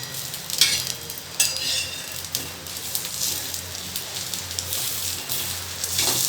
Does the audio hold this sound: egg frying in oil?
yes